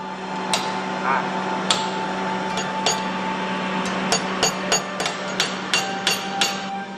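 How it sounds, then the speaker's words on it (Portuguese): Sharp metallic hammer strikes on red-hot iron ring out at irregular intervals, quickening into a rapid series of blows over a steady low hum. "De um simples pedaço de ferro incandescente, vai surgindo uma boca, a marteladas."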